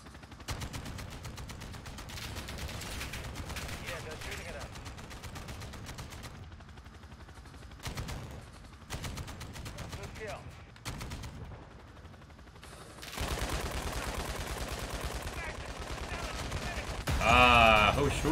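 Rapid automatic gunfire from the video game Modern Warfare II, bursts rattling near and loud through most of the stretch with short lulls, growing heavier toward the end, while a player talks over it.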